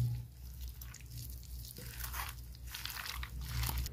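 Chicken is worked by hand with gram flour, lemon juice and egg, giving soft, wet squelches and faint crunchy squishes in an irregular rhythm, quiet and close.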